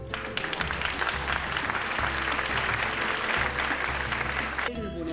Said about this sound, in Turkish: sorulara verdiği samimi yanıtlarla izleyicilerden alkış aldı